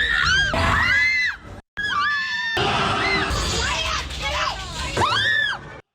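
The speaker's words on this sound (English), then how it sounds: "We could not stop screaming." Several people scream loudly inside a haunted house attraction, with shrill rising and falling shrieks in repeated bursts, close and intense, mixed with crowd noise.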